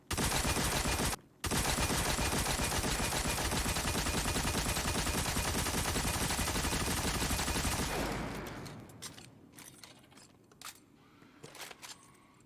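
Thunderlord, an exotic machine gun in Destiny 2, fires a loud, unbroken stream of rapid crackling electric shots for about eight seconds with one brief pause, then the barrage cuts off into sparse fading crackles and clicks.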